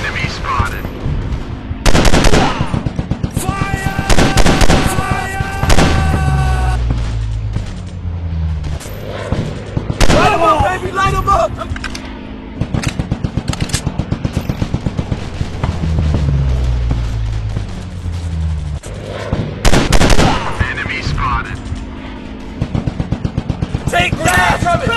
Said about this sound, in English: I'm shooting these fools up!